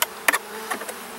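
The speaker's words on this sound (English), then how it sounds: "there seem to be a good number of bees here" Honey bees around an open hive during a frame inspection, heard as a few short, faint buzzing passes that come and go amid near quiet.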